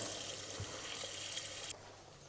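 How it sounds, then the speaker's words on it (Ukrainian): Water poured from a tap into a pot for cheese soup, a steady close rushing hiss that cuts off abruptly near the end, leaving quiet kitchen room tone. "Тепер давайте додаємо воду."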